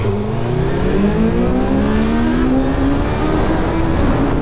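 A BMW S1000 XR and a Suzuki GSX-S1000 GX sports tourer motorcycles accelerate hard in a race, loud engine notes rising steadily in pitch through the gears over continuous wind and road roar.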